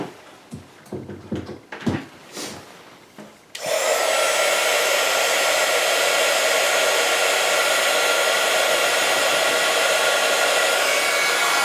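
A heat gun used for embossing on vellum starts up after a few seconds of faint handling clatter, then blows with a loud, steady, even roar that holds unchanged to the end.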